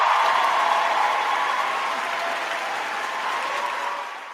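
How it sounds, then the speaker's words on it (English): A sustained round of applause with a wash of crowd noise, steady and fairly loud, slowly fading toward the end, with no voices over it. "You're gonna get a round of applause."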